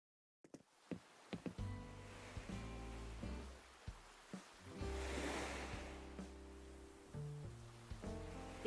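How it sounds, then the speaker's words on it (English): Rushing waterfalls in the Animal Crossing: New Horizons video game make a steady broadband roar that swells and fades, laid under a sparse game melody with faint plucked notes. "the waterfalls were really loud"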